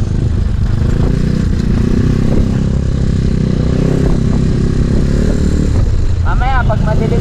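A motorcycle engine droning steadily while the bike is ridden toward Patapat Beach in Pagudpud on a hot day, loud and close with wind rush, and a voice talking over it.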